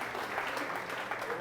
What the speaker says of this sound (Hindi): ये तमाम मसीहाओं के लिए एक दफ़ा आपकी तालियां होनी चाहिए